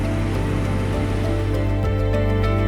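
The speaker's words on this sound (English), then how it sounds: "Italy is raining heavily tonight." Heavy rain falling at night in Venice, Italy, a dense, steady broadband wash of drops on surfaces that stays loud and unbroken throughout, with no voices.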